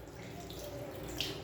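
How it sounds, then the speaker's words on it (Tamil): Cold water runs from a tap in a resort room in Yercaud, a steady soft rush with faint dripping, close by and without speech. "அப்புறம் இங்கே தண்ணி வருது பார்த்தீங்களா?"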